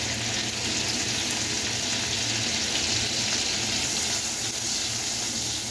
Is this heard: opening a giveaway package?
no